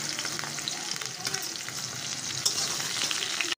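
Potato pieces frying in mustard oil for an Odia potola alu rasa, giving a steady, loud, close sizzle that runs unbroken throughout with no talking.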